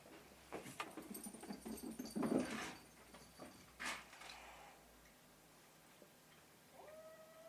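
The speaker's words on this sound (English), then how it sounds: "Okay, I still hear my cats." Pet cats meowing and yowling indoors, several short close cries in quick bursts, then fading to quiet room tone with a faint electronic tone near the end.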